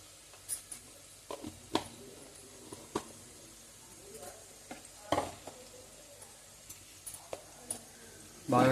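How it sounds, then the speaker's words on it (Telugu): Turmeric and ginger garlic paste being stirred in a frying pan for Telangana-style chicken curry, a soft low sizzle broken by irregular sharp scrapes and taps of the spoon against the pan. "పసుపుని అల్లం వెల్లుల్లి పేస్ట్ పచ్చివాసన పోయేంత దాకా బాగా కలుపుకోవాలి"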